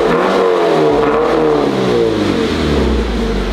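Toyota GT86 drift car engine revving loudly and continuously close by, a sustained high-pitched roar rising and holding with harmonic whine, recorded at a drift event with no talking.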